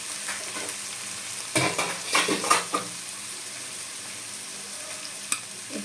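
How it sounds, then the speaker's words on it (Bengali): Taro curry sautéing in a pan with tomato, turmeric and salt, a low frying sizzle under a few clustered stirring scrapes and clinks of a utensil against the pot, close, without talk. "দিয়ে ভালো করে কষে নেব।"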